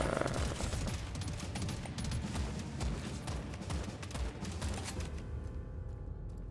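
Rapid gunfire in the video game Deep Rock Galactic: Survivor, a dense continuous fusillade of machine-gun-like shots that keeps going before thinning out near the end.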